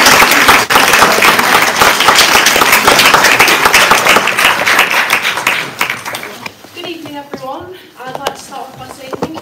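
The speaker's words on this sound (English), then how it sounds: "So please give a round of applause for her." Loud, sustained clapping from a crowd at a college student awards ceremony in London for several seconds, then it dies away and a single voice starts speaking.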